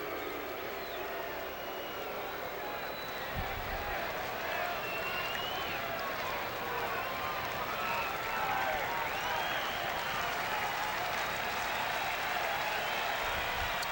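A baseball crowd at Veterans Stadium in Philadelphia claps and cheers steadily as a broad, sustained wash of applause, heard from within the stands with an announcer talking over it.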